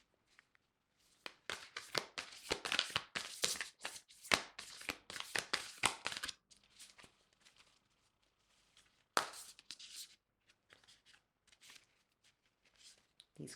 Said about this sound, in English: So I'll shuffle one more time